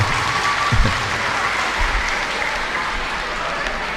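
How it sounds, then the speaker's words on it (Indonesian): A crowd at a community talk on stunting prevention breaks into sustained applause, dense even clapping throughout, with a few brief low thumps near the start. "Oke, tepuk tangan dulu lah."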